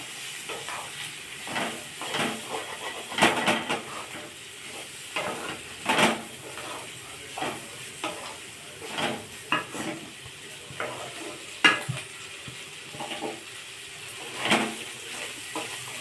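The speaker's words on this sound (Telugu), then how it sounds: "సిమ్లో పెట్టుకొని వేయించుకోండి" Cluster bean pieces are stirred while frying on a low flame, producing intermittent scraping strokes at an irregular rhythm over a light, continuous sizzle, close by with no voices.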